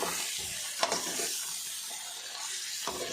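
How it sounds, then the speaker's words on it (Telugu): Chicken fries in a pan with a steady sizzling hiss and occasional stirring clinks, moderately close with no talking. "చూడండి చక్కగా వేగుద్ది."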